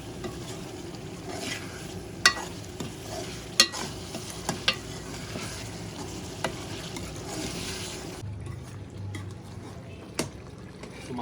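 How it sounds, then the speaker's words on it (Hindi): Mutton fries and is stirred in spice masala, a soft steady sizzle broken by sharp spoon scrapes and clanks against the pot, with faint talk in the background. "मिक्स करने के बाद गोश्त की अच्छी तरह से भुनाई कर लेंगे मसाले में।"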